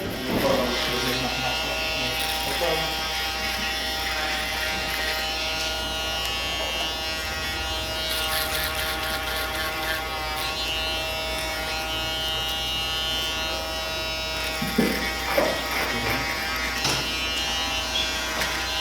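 Andis ProClip AG2 detachable-blade hair clipper buzzing steadily and close throughout a barbershop skin fade, with brief voices and shuffling near the end.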